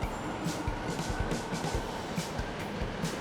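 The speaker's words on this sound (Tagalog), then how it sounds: "Ayan na yung MRT." An MRT-3 train moves through Kamuning Station, a steady broad rumble with rhythmic wheel clacks heard from nearby on the platform level.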